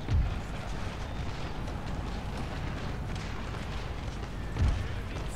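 Continuous rumbling battle noise in the video game Empire: Total War, with heavy booms of cannon fire, dense and loud throughout, a deeper thump near the start and end.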